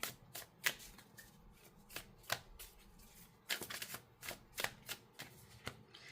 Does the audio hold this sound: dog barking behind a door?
no